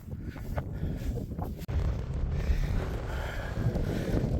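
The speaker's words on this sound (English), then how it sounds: "Just need the wind to drop, that's all." Strong wind buffeting across an open North Pennines fell, a steady, loud low roar of gusts against the microphone with one brief dip, no voices heard.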